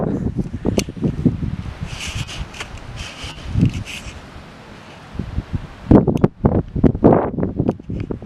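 Gusty wind in Charente buffets a camera microphone with rumbling bursts that come and go, easing in the middle before a strong gust returns near the end.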